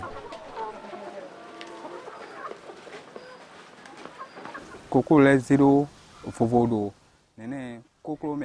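Chickens separated by size in farm pens cluck and murmur softly at first, then a loud nearby hen lets out repeated squawking clucks, with someone speaking over the birds.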